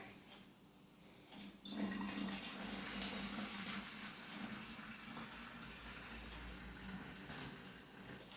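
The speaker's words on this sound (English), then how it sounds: "I'm going to add in some water." Water is poured into a homemade volcano mix of dish soap and vinegar, a sudden splashing gush that settles into a steady trickle and stream, close by, with no talking.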